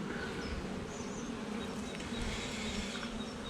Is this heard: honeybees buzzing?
yes